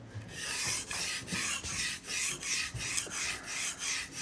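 A knife blade is stroked back and forth across a wet Ardennes slate natural stone with fine garnet abrasive, producing close, steady rhythmic rasping strokes, about three per second, with no talking.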